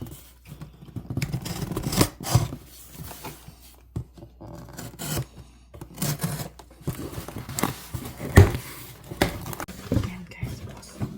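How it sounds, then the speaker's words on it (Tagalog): An Amazon delivery package is torn and cut open with rustling, ripping and scraping of cardboard and plastic in irregular bursts nearby, with someone speaking intermittently over the handling noises. "Buksan natin para ko sa inyo kung ano ang"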